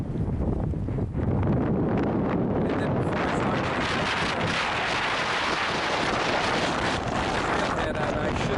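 A strong breeze buffets the microphone on a mountain hike near Cascade and Porter, a loud continuous rumbling wind roar that lasts the whole time, with brief gusty surges.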